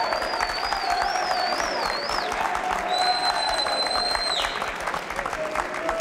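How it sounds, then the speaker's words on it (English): Crowd applause at the 2000 Mosconi Cup pool event, steady and full, with whistles and high tones cutting through from the audience. "Give him a great round of applause."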